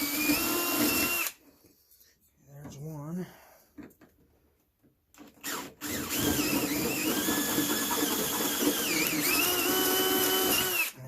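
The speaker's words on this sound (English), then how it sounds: "I'm actually going to drill these outside the" Power drill boring bolt holes for a manual brake conversion, worked outside the car. A loud, steady whine runs at the start and again through the second half, with quieter handling noise and a short gap between.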